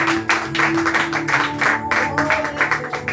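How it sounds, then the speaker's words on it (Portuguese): Church congregation clapping in rhythmic bursts throughout, with sustained tonal music or organ running underneath. "Bate palmas para Jesus e Maria."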